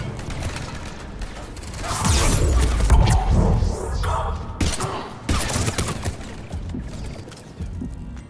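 Rapid bursts of gunfire in a Mass Effect 3 combat scene, clattering volleys with mechanical clanks, louder in the middle and continuing in sharp, scattered shots.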